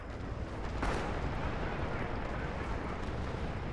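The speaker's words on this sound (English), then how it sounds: "Run towards the explosions." Loud rumbling blasts and booming explosions in a dense, continuous barrage in the video game Rising Storm, one sharp crack near the start, with no clear speech.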